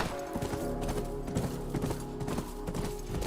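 Horse hooves clip-clop in a steady, even rhythm in The Last of Us video game, moderately close over a low ambient background.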